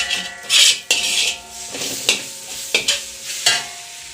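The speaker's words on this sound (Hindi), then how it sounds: "मसाला भूंज रही हूँ। आदि, लहसुन, प्याज, मिर्चा सभी 5 फोरन वगैरह सभी फोरन दे करके उसके बाद हम इसको अच्छे से भूंज रहे हैं।" Ginger, garlic, onion and chilli masala fries in a pan while being stirred, giving repeated clinking scrapes of a spoon against metal over a steady close sizzle.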